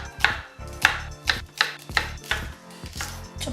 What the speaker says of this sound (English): Now we have to chop these scallions a lot more finely.